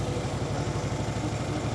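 A Toro 648 snowblower engine running with a steady, throbbing low mechanical drone and rapid regular firing pulses, close and loud throughout.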